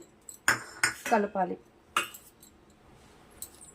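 Spoon clinking and scraping against a pot while stirring yogurt into rice, a quick run of metallic knocks and scrapes, close and clear, then a single clink and near silence.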